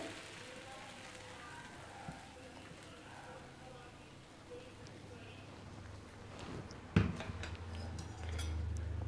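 Dosa batter hits a hot dosa griddle stone, giving a faint, crackling, rain-like sizzle with a sharp clatter near the end, while a voice is faintly present.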